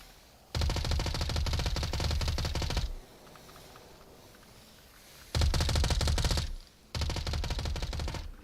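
Automatic gunfire in the VR shooter Onward during a competitive VRML match, three loud sustained bursts of rapid shots separated by quieter gaps.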